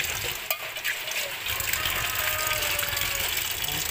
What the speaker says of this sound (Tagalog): ilagay lang natin sa strainer para siya mawala yung tubig